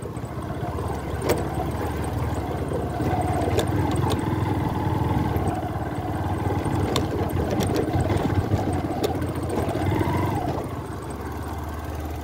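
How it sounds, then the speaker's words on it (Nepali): A motorbike engine labors steadily up a narrow off-road footpath, its rough drone holding loud and close throughout with slight surges in revs. "गोरेटो बाटोमा बाइक चढाउनु पऱ्यो हो"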